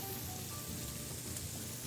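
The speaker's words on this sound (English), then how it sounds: "You want it to be medium-high heat so you get a little sizzle here going." Octopus sautés in olive oil in a pan over medium-high heat, giving off a faint, steady sizzle that continues without a break.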